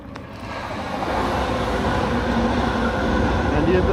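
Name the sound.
international train crossing a huge bridge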